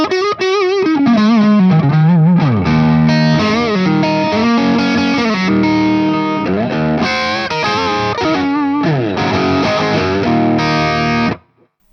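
Electric guitar played through a BOSS IR-200 pedal loaded with a Celestion Vintage 30 or G12H speaker impulse response, giving a loud, distorted tone with sustained chords, sliding bends and quick riffs that ring out continuously before stopping abruptly.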